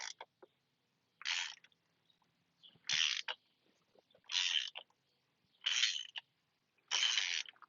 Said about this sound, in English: this cap is a 24mm socket. We loosen it up.